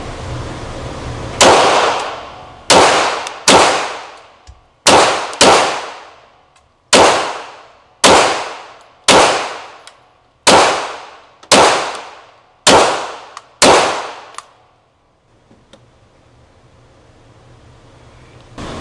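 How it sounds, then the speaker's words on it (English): Live pistol fire during a Mantis X10 Elite shooting test: about eleven loud, sharp shots at a steady pace of one every second or so, each with a brief ringing decay, followed by quiet. "we're gonna do live fire"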